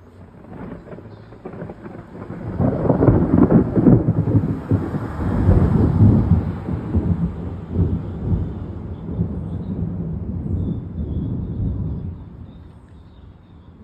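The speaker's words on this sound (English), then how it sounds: "There's some thunder for you." Deep rumbling thunder from an approaching storm rolls in and swells, holding loud for several seconds before slowly fading, with a faint hiss of wind or light rain underneath.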